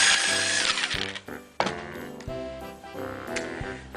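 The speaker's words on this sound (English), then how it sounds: "Combine this with your mixer." An electric hand mixer beating vegan Neiman Marcus-style cookie dough in a bowl, a loud whirring, grinding motor with uneven surges and brief dips as the beaters work through the thick dough, heard alone with no talk.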